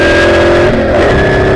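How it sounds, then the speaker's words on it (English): A big hillclimb race car in the British Speed Hillclimb Championship roars under full throttle as it powers up over a rise, its engine note loud, close and continuous, rising in pitch with the revs. "Taylor powers the Stovebolt up over Burke's Rise"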